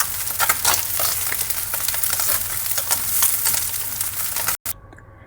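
Small puti fish fry in hot oil in a pan, a steady close sizzle with crackling and spattering throughout, ending in a brief dropout and a quieter tail.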